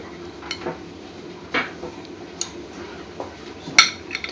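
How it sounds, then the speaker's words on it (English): Chopped green pepper tipped into a pan for a restaurant-style curry base gravy, giving a few scattered clinks and soft knocks of utensils against cookware, with a sharp metallic tap near the end and a quiet background. "And now it's going to tip the chopped green pepper."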